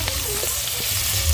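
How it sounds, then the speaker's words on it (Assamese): Onions hit hot oil in a pan and fry with a loud, steady, close sizzle, with a soft stirring scrape underneath. "আমাৰ তেল গৰম হৈ গৈছে মই দিম এতিয়া পিঁয়াজ"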